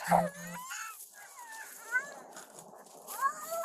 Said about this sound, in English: the biggest problem Caden has right now is the incessant licking of a very excited search dog